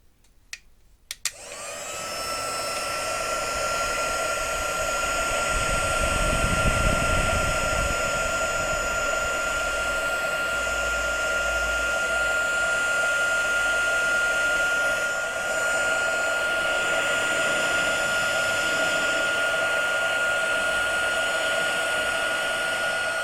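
A handheld heat tool blows a steady, loud airy roar with a faint whine, melting embossing powder for heat embossing; it starts after a brief click and runs continuously for over twenty seconds with no talking.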